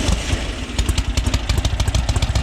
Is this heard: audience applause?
no